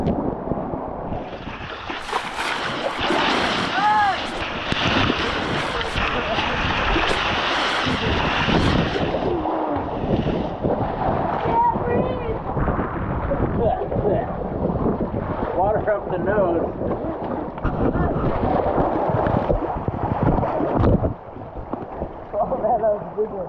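Strong wind buffets the microphone on Lake Livingston while waves slap and wash around a small boat, a loud, constant roar with a few brief voices mixed in.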